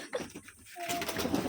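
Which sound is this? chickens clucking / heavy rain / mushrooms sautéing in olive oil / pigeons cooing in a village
pigeons cooing in a village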